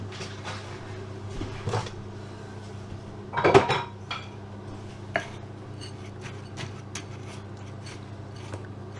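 Measuring spoons clink and rattle while baking a toffee hazelnut cake, giving a few scattered metallic clatters in a kitchen with one louder burst of jangling in the middle.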